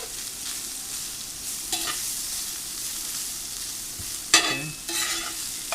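Sliced vegetables stir-frying in a pan, with a soft continuous sizzle broken by a few scrapes and clatters of a utensil, the sharpest clack near the end; a brief spoken word is heard.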